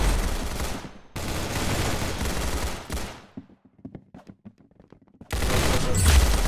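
Video game gunfire rattles in loud, dense automatic bursts, breaks into scattered single shots and sharp impacts, then resumes as a heavy sustained volley.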